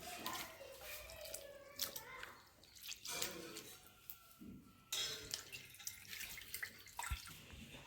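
Soaked tamarind squeezed by hand in water for a fish curry, faint wet squelching and sloshing with small drips, quiet and close in a kitchen setting.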